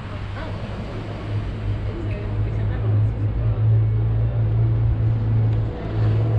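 Steady city traffic in Paris, with a continuous low engine drone from a car and passing vehicles close by, loud and unbroken throughout.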